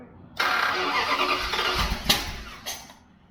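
A Dodge 318 engine, left unrun for ten years, cranks and catches, then revs roughly for a few seconds before dropping back, loud and close, fitted with an exhaust.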